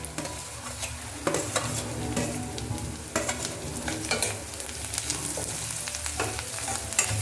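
Onions and green chillies with crushed ginger and garlic sauté in a pan for restaurant-style channa masala, a steady close sizzle broken by repeated scraping stirs of a spoon across the pan, with no voice over it.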